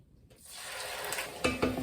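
Chopped onions hitting a pot heated on medium, giving a soft rising sizzle after a brief quiet start, with a couple of clinks near the end.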